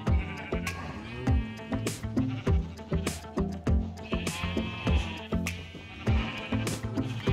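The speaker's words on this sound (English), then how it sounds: "as you can hear by the noise, the sheep population is still growing strong" Repeated sheep bleats from a Minecraft sheep farm ring out over a busy, rhythmic backdrop of clicks and thumps, several animals calling at irregular intervals.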